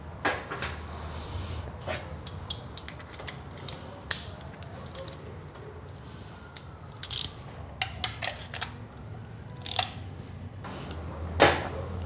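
Spark plug being worked with a plug tool during an engine compression test, giving repeated ratcheting clicks and small metallic mechanism sounds in short irregular bursts, close and fairly quiet, with no talk.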